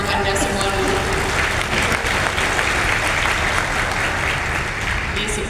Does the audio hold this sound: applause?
yes